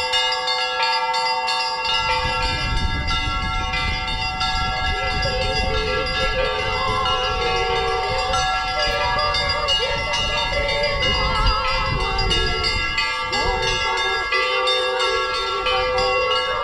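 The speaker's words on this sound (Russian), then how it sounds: "Песнопения сопровождались звоном колоколов. На передвижной звоннице в них звонил настоятель храма Петра и Павла поселка Синой Роман Белоусов." Church bells ring steadily from a mobile belfry, played by a priest during an outdoor Orthodox religious procession carrying icons, with dense layered peals continuing loud and unbroken throughout, the sound of a crowd faintly beneath.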